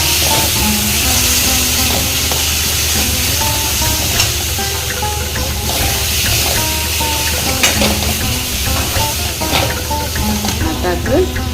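Chicken coated in masala paste is stirred in a frying pan, giving a loud, constant sizzle with spatula scrapes running through it.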